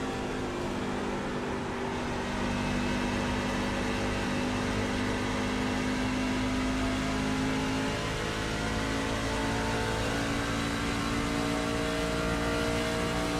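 A NASCAR race car laps at Nashville, producing a continuous engine drone that holds a steady pitch, with a slight rise in level after the first couple of seconds, heard without any talk.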